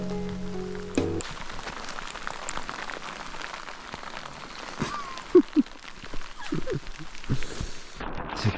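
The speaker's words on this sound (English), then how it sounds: "it wasn't long before rain showed up" Rain falls steadily on a hiking trail in a nature park with a constant hiss, a few louder drops or taps standing out now and then, outdoors and without speech.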